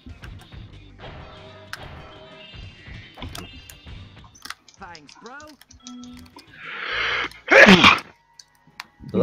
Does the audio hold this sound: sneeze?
yes